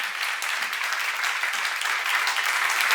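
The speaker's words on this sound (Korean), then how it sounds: "박수하세요" Steady applause from a church congregation fills the whole stretch, dense and continuous clapping at an even loudness with no voices on top.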